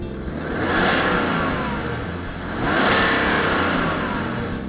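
A diesel coupe convertible's engine revs up twice, each surge swelling to a throaty roar and easing off, heard close with no talking.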